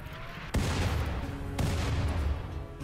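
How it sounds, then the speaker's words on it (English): Incoming mortar shells in RimWorld strike with two sharp, loud explosive impacts about a second apart, each followed by a rumbling, noisy tail that fills the short stretch. "Mortars inbound."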